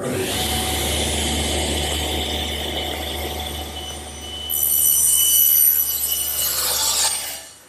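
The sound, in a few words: table saw cutting a panel with a panel cutter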